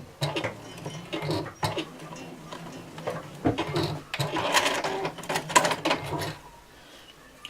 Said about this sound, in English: And I sew until I get back to this edge.